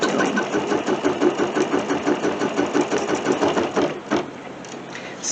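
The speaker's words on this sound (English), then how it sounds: "we'll go ahead and stitch our star down" A sewing machine runs in a fast, even rhythmic chatter while stitching down a fabric star applique for bunting, loud and close, then slows and stops near the end.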